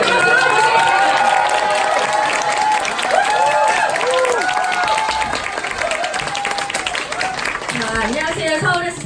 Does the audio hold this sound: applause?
yes